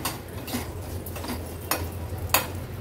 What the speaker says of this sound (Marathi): ड्रायफ्रूट्स देखील तुपावरच व्यवस्थित 1-2 मिनिटांसाठी परतून घ्यायचे आहेत रव्यासोबत